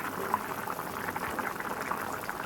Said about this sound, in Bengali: জলটাকে টকবক করে ফুটছে আমার তরকারির ঝোলটা